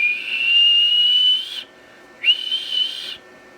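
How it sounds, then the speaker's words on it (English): Whistling into a CB radio microphone comes through as a loud steady tone over a hissing carrier, two sustained notes separated by a brief cutoff, each ending abruptly. "Should we whistle?"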